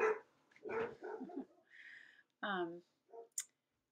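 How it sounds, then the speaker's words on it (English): A dog barks a few times in short bursts, sharp and fairly close, breaking in between stretches of a person talking. "my dog's barking already"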